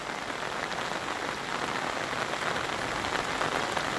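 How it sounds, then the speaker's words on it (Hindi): Heavy rain falls in a loud, continuous hiss of drops striking a surface, close and steady throughout, with no voices. "भारी बारिश के बाद नदियां उफान पर हैं"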